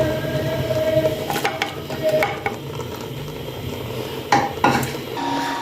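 Garlic cloves and green chillies tipped into a pressure cooker for chicken dal shami kabab, giving a few sharp metallic clinks and clatters over steady kitchen background noise, with no talk.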